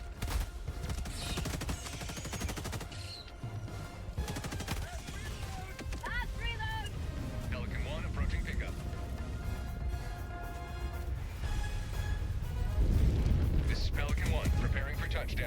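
Rapid gunfire and blasts from a shooting video game rattle on continuously, fairly quiet and dense, underneath a player talking excitedly.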